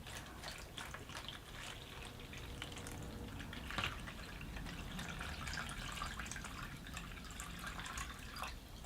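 Plain tap water running steadily into a microgreens growing container, a continuous close splashing stream that holds at an even level throughout, with a brief louder splash partway through.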